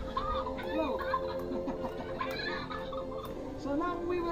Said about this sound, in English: So now we will give this to our breeder chicken.